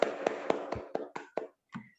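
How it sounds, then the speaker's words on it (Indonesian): An audience at an Indonesian business presentation claps in a steady, evenly spaced beat, about eight sharp, crisp claps with a short gap before the final one. "Kita kasih aplaus untuk Bu Farida dari Medan"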